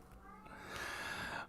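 A cat meows faintly in the background of a quiet indoor room: a single drawn-out, rising cry.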